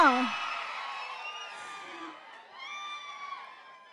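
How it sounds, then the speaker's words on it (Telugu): An audience at a movie glimpse launch event cheers and whoops to welcome actress Meenakshi Chaudhary, loud at first and then tapering, with a few high whistles and shouts near the end. "గట్టిగా చప్పట్లతో మన beautiful and talented Meenakshi చౌదరికి welcome చెప్పేద్దామా?"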